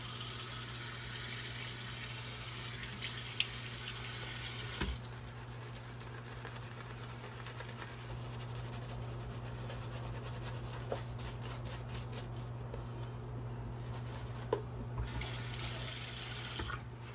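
Water from a tap runs steadily into a sink, a continuous rushing flow with a brief pause or change in stream partway through, close and clear with no talking.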